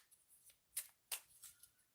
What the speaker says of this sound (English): Now I'm going to shuffle the deck